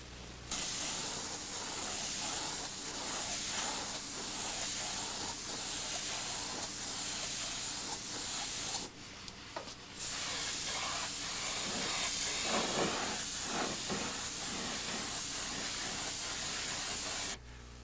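Spray gun painting the taped-off interior areas of a Van's RV-6 aircraft kit, a steady close hiss running almost continuously with a brief pause in the middle.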